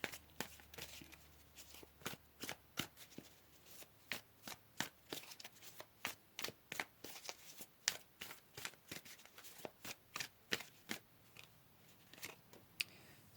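Tarot cards being shuffled by hand, a steady run of about twenty crisp riffling snaps close up, spaced roughly evenly with brief quiet gaps between, no voices over it.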